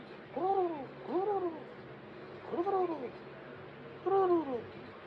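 A voice imitates a turkey with four warbling, arching calls spaced about a second apart, close and moderately loud over faint background hum.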